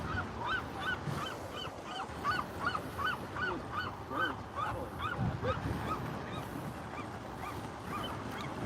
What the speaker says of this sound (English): And gulls fighting, as usual.